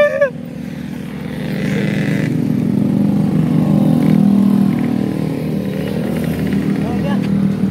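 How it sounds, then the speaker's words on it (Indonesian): A motorcycle engine idles and revs nearby in a rural village setting, a steady low rumble that swells in the middle, with people talking over it. "wah, motornya bagus"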